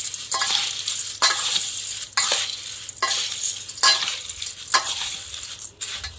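Puffed rice (muri) being tossed and mixed with spices in a bowl, repeated rhythmic rustling stirs, close and fairly loud, with brief pauses between strokes.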